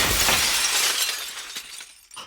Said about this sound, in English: The sound of shattering glass wrenches me awake.